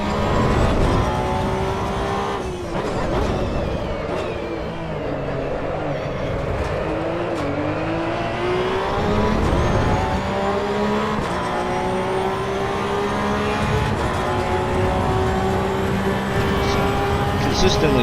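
A race car engine in the video game Assetto Corsa EVO revs and shifts through gears continuously for many seconds, loud and close, with someone talking over it.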